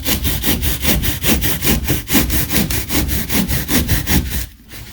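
A coarse hand saw rasps through wood in a fast, even rhythm of loud back-and-forth strokes up close, stopping just before the end.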